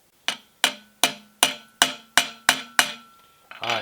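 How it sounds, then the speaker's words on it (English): Eight sharp metallic hammer taps at an even rhythm, knocking a part tight on a Clausing lathe, each ringing briefly before the next, close and clear, followed by a short scrape. "I'll get a better hammer, tap that in a little more before we cut it off."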